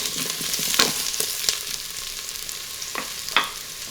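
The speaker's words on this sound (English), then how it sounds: "I am now adding a onion chopped up into chunks, not chopped into little pieces, but just into chunks. Just gonna saute that for about a minute." Onion chunks sautéing in an Instant Pot for a Thai yellow chicken curry, a soft steady sizzle with a few light scrapes and clicks of a utensil, fairly quiet and with no talking.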